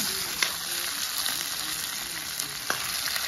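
Magur catfish frying in a pan, a steady close hiss of sizzling oil with a few brief crackles and pops standing out, no voices.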